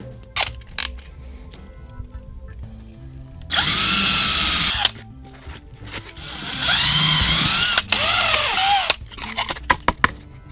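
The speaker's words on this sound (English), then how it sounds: "I'm going to drill some holes straight through them." A power drill bores holes through dried resin in two loud, sustained bursts of whining, with clicks and handling knocks before, between and after.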